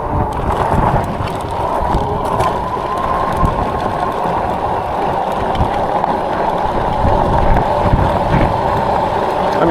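A Heybike Ranger 3.0 Pro folding e-bike ridden fast at about 28 mph on a gravel dirt road, giving constant rumbling tire crunch mixed with heavy wind buffeting on the microphone throughout.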